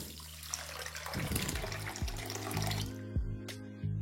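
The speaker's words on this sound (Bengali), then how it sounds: "এবার ধোয়ার জন্য আমি এখানে ঠান্ডা জল দিয়ে দিচ্ছি।" Cold tap water pouring into a pot to wash rice and lentils for chicken khichdi, a close splashing gush that stops near the end, leaving a few drips and clinks.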